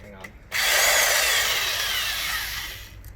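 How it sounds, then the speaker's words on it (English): Impact wrench running on a 1980 Honda CM400E motorcycle during starter clutch work, one sustained whirring burst of about two and a half seconds, close and loud, starting abruptly and trailing off, with no talk over it. "And so he's using my impact."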